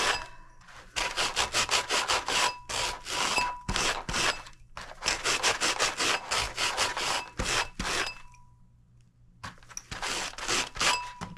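A sanding block grinds hard, cured colored UV resin on a clear wine glass, a loud, rapid back-and-forth rasping in long bursts with short pauses between strokes.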